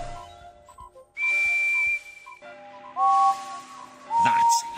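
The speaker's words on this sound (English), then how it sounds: "Pick out Henry's whistle" Steam whistle of Henry, a green tender engine in a Thomas the Tank Engine video game, sounding in three loud sustained blasts of about a second each, separated by quieter game background noise.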